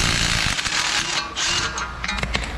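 A ratchet or similar hand tool works on strut and control arm bolts of a Chrysler 200, giving a dense run of metallic clicks and clanks close by.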